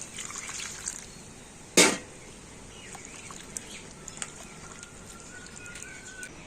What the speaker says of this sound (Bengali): এখন আমি নারকেলগুলো জল দিয়ে খুব ভালো করে ধুয়ে নেবো